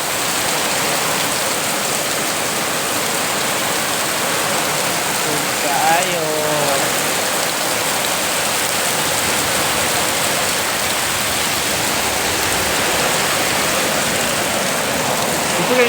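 Steady, heavy rain pours down in a dense hiss, with a voice speaking briefly partway through.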